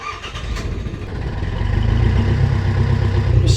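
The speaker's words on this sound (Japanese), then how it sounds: "じゃあエンジンかけて" A boat engine cranks and catches, settling into a rising, steady rumble that grows louder and continues running close by.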